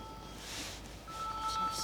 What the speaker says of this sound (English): Is that your phone, Dee?